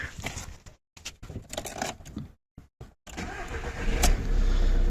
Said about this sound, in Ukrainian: Отже, пробуємо запустити автомобіль